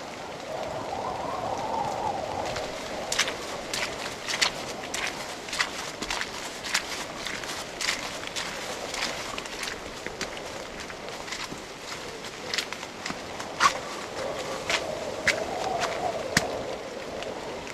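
Wet footsteps stomp outdoors in heavy rain on rocky ground, scattered sharp thuds and splashes sounding under a constant hiss of rainfall, with no talk over them.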